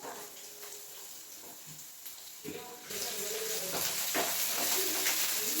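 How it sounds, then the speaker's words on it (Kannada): Onion, ginger and garlic frying in hot oil, a soft sizzle that grows louder and steadier partway through, with faint clinks of stirring and a dog barking in the background. "ಈ ಥರ ಫ್ರೈ ಮಾಡ್ಕೊಬೇಕು."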